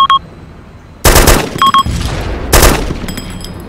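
Two loud bursts of automatic gunfire in an Arma 2 battle between Russian and CDF forces, each a rapid volley about a second and a half apart, with short radio-like beeps between them and no talk.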